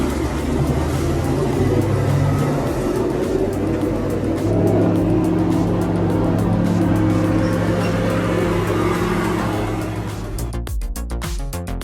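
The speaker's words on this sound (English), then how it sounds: "A Peterbilt truck pulling out is like a big, powerful horse starting its journey. The truck's engine roars to life." A Peterbilt truck's engine roars as the rig pulls out, a loud, steady low rumble that holds throughout and breaks into a rougher, clattering burst near the end.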